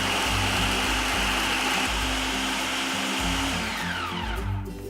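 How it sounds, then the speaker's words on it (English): A blender purees a spice mixture in a kitchen, a loud, continuous motor whir with churning texture that holds steady for nearly five seconds before winding down at the end. "Okay, so I'm going to puree all that first"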